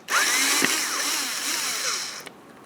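A power drill spins out a pair of Phillips head screws from the liftgate handle garnish panel of a 2004-2005 Scion xB, whining steadily for about two seconds up close with a brief click midway, then stopping.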